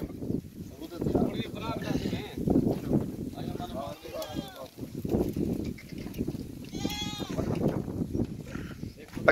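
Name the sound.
goats bleating on a goat farm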